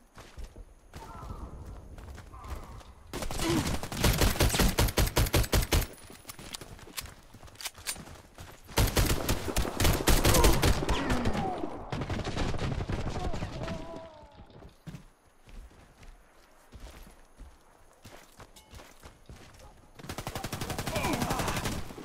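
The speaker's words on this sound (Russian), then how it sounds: "Ой, ещё пулемет сразу." Machine gun fire in a Warface round, long rapid bursts of automatic shots that come in repeated loud volleys with quieter gaps between them, while someone talks in the pauses.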